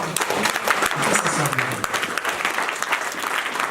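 A church congregation applauds together in a warm, dense burst of clapping that holds through the whole stretch, near and loud, with a voice briefly audible over it.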